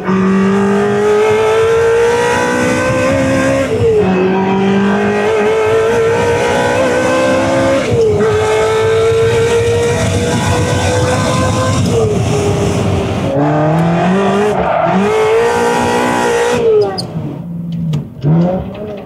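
A Ferrari 360 is driven hard on a race track in hot conditions. Its engine revs loudly and continuously, the pitch rising and falling through repeated shifts, with possible tire squeal beneath. It fades near the end.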